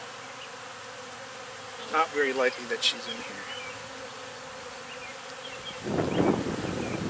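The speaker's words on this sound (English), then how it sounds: "the bees are pretty much leaving the box ASAP and heading into this hive" Honeybees from a package box swarm into a hive, a steady low buzzing that swells louder near the end, while someone talks quietly over it.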